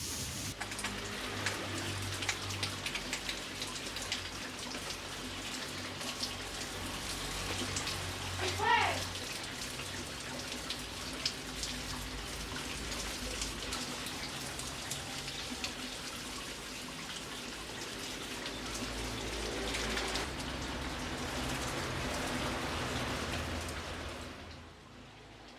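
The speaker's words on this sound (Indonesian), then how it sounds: "kita siram dulu" Water is poured over a potted bonsai, pattering and splashing steadily onto soil and leaves for over twenty seconds at moderate, close range before it stops abruptly at the end.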